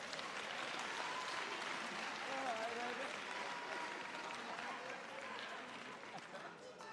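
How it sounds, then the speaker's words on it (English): A conference hall audience claps steadily and densely for the whole stretch, at moderate level, with a faint voice running underneath before the applause thins slightly toward the end. "give them a good round of applause"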